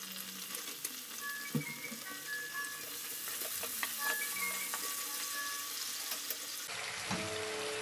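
Mussels and kangkong sautéing in a pan with oyster sauce and a little soy sauce, a soft steady sizzle with occasional stirring clinks and scrapes, fairly quiet and close.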